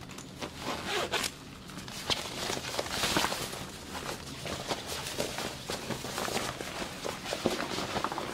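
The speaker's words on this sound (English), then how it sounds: "Unzip that zipper panel." A zipper on the panel of a sewn fabric bag is pulled open in a series of quick rasping strokes, close and crisp, with handling rustles between pulls.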